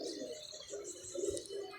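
A pigeon coos softly in a low, rolling rhythm, a few repeated throaty calls close by, with faint chirps from other birds in the background.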